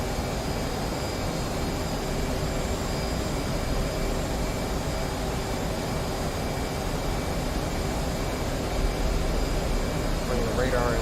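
F/A-18 Hornet jet engine in DCS World, a steady broad roar with faint high whine tones, constant and close throughout, with a voice talking over it.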